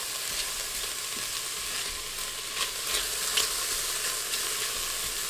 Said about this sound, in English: I do like to let those onions start sweating a little bit